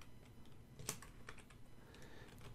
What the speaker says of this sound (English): let's type in his name